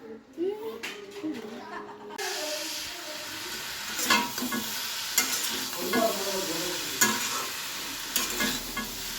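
Jackfruit curry with soybeans sizzles and frying in a pan while being stirred, steady crackle with scraping stir strokes throughout, and occasional voices talking in the background.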